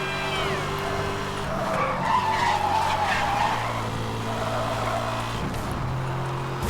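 A car sliding sideways in Need for Speed: Hot Pursuit (2010), tires squealing in long wavering streaks over a steady high-speed engine drone, continuous and loud throughout.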